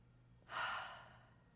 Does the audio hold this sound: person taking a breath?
yes